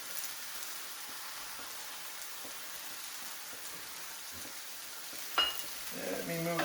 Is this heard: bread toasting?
yes